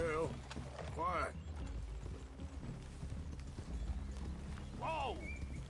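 Horses walk on hooves in Red Dead Redemption 2, a steady clip-clop rhythm running under game speech and ambient noise, with a couple of rising vocal calls over it.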